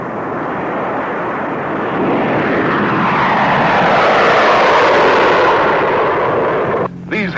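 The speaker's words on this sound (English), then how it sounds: "a B-36 and a B-47 will be in the air" A B-36 and a B-47 bomber in flight during a 1952 hydrogen bomb test, a loud, sustained broadband engine roar that swells and then cuts off abruptly near the end.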